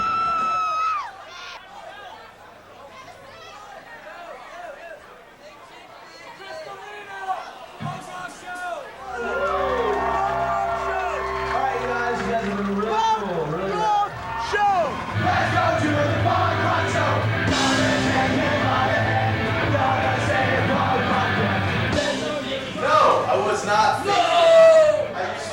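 A concert crowd yells and cheers in loud, shifting waves, with excited shouts and voices mixed into the babble throughout.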